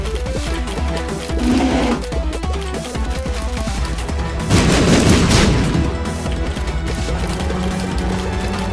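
Troll bombs exploding in The Binding of Isaac, booming blasts over a loud game soundtrack, with a heavier burst of explosions around the middle, no talking.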